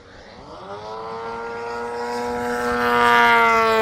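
A large, fast RC airplane sweeps in overhead with a loud, steady engine whine that swells in volume as it nears, with no talking.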